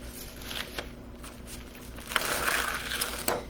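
A sticky silkscreen damask stencil is peeled from its backing sheet with quiet, close crackling and tearing sounds that swell briefly midway.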